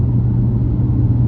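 A 450 hp BMW M4 Competition engine heard from inside the car, a loud, steady low rumble of a cruising motor with a constant deep drone and no voices.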